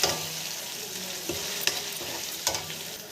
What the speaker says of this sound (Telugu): అల్లం వెల్లుల్లి పేస్ట్ వేసినాక బాగా వేయించుకోవాలండి